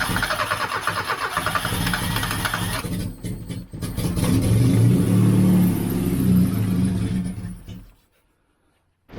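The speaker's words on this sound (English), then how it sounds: "Right, I've got that running now and a bit of choke just to get the revs up a bit." A 1989 Austin Mini with a 998cc A-series engine cranks and fires, then runs with choke at raised revs, a close, buzzy rattling engine note that cuts off abruptly near the end.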